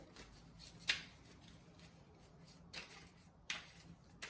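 A deck of tarot cards being cut, quiet riffling and sharp snaps of cards coming in three short bursts, close and faint.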